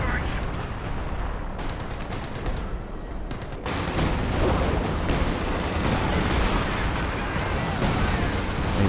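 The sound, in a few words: major artillery barrage in the video game Company of Heroes 2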